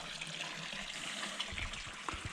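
Water pours strongly and continuously from an old fountain in an abandoned historic area, a close, dense splashing rush with no other sound.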